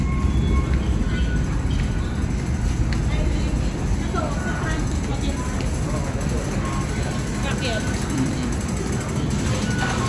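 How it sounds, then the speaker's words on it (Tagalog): Steady low rumble and rattle of a Hong Kong MTR metro train in motion, loud and continuous, with people talking over the noise. "Nasa MRT kami ngayon."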